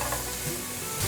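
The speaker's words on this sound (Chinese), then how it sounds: "快速翻炒，大约略炒一下" Vegetables with red bell pepper and baby corn stir-fried in a wok, a brief burst of loud sizzling with scraping stirs, no voices.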